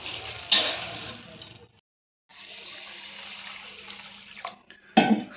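Water runs steadily from a tap over urad dal lentils being washed, a close hiss that stops briefly, resumes, then ends with a sharp clatter.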